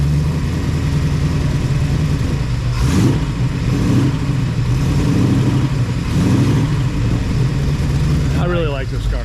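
Corvette restomod V8 with a big cam, idling with a lumpy rumble and blipped revs at close range while people talk over it.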